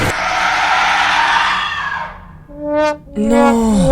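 A monster in an indie horror video game shrieks in loud, drawn-out, tonal screams, with a long harsh cry followed after a brief gap by rising and falling wails.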